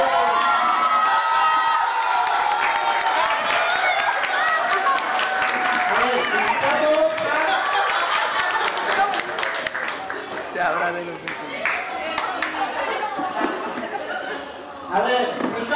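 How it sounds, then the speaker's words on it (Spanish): Loud applause and cheering from a crowd at a robotics championship award ceremony, with clapping, shouts and children's chatter, strong at first and then thinning and fading toward the end. "el segundo F, fuerte los aplausos"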